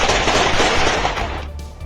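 Rapid gunfire from soldiers shooting at protesters in Pakistan, a loud sustained burst of dense automatic shots that fades slightly toward the end.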